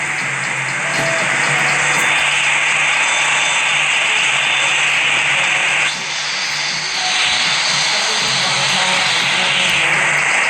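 A Boeing 737 taxiing toward runway 33 in the Roblox game PTFS, a loud continuous jet engine whine and roar with a slight dip and pitch shift around midway, no voices.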